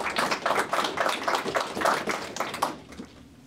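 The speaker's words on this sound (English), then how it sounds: "Let's give that a round of applause." A short burst of audience applause at a public update on veteran homelessness, a crowd clapping steadily for about three seconds before dying away.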